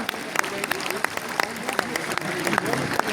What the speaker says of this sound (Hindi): तो एक बार अपने इन वीर सपूतों के लिए जोरदार तालियां।